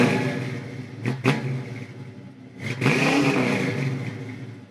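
Ford Mustang V8 revving in a steady, raspy roar with a couple of sharp throttle blips partway through, loud and close, no voices over it.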